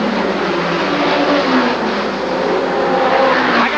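Midget race car at Oswego Speedway tearing down the back straight during an ARDC-NEMA feature, a loud, continuous high-revving engine roar close by, with no talk over it.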